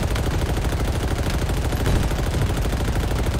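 Rapid automatic gunfire from Halo Infinite, a dense continuous stream of shots rattling steadily and loud with no talking.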